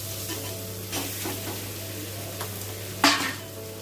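Vegetables, onion and fried chicken for chicken chow mein sizzle steadily in a pan under a constant hum, with light stirring scrapes and one sharp clatter of a utensil against the pan.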